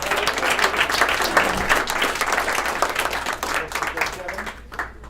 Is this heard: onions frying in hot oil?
no